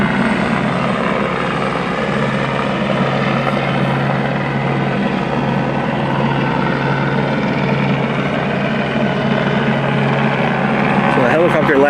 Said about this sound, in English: So the helicopter last seen them right here, like right behind that red wall, right there.